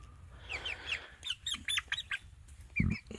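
Backyard chickens squawk and cluck in short, sharp bursts while being cornered, close and fairly loud, with a soft thump near the end.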